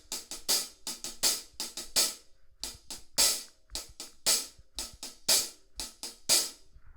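Drum groove with hi-hat in steady 16th notes grouped in threes, the last hit of each group accented, over kick and snare, a busy close rhythmic pattern with strong periodic accents and no voice.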